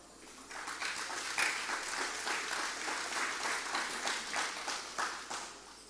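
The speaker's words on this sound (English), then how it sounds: "I want to give the Joint Council a round of applause" Audience applause at a yam and sustainable agriculture symposium in the Caribbean, a steady wash of many hands clapping in a hall, sustained and fairly loud for several seconds with individual claps standing out.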